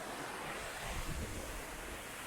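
Waterfall rushing in El Yunque rainforest, Puerto Rico, a faint continuous broadband roar of falling water with a slight low swell, steady and distant, without voices.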